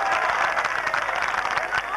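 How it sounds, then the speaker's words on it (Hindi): A crowd at a live Hindi poetry recital claps loudly and densely, the sound dense and continuous throughout, with no voices rising above it. "जोरदार ताली बजाइए, जोरदार ताली बजाइए।"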